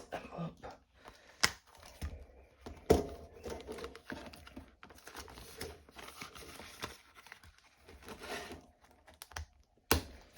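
Money being slipped into a paper envelope makes soft, close crinkles and rustles, with scattered light taps and clicks at a quiet level and no talking.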